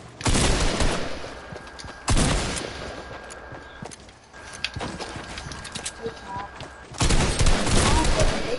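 Video game gunfire sprays in dense, rapid bursts, loud and near, separated by brief quieter gaps filled with rustling and background noise.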